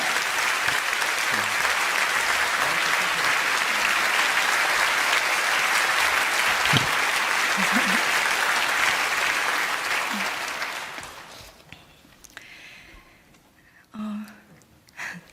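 Church congregation at a special revival meeting applauding to welcome a missionary speaker, a dense, steady roar of clapping for about ten seconds before fading out, followed by a few faint movements and a brief vocal sound.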